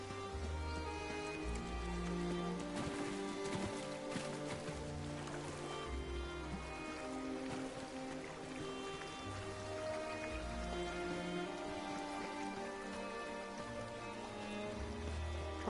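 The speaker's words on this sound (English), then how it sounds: "Just imagine the weather outside right now. It's really rainy." Steady rain falls in the video game Elder Scrolls Online, a continuous wash of patter heard over a layered game music score, with no speech.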